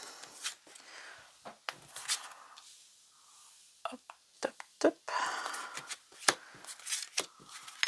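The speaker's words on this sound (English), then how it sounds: "Sometimes some people like to watch the shuffle." A deck of cards is shuffled close by in quick bursts of soft riffling and snapping, with brief pauses between.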